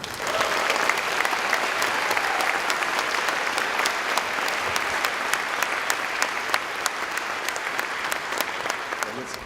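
A gala audience at a Link-Up (Qld) 35-year anniversary gala in Queensland applauds steadily, dense continuous clapping filling the hall at even loudness for the whole stretch with no speech over it.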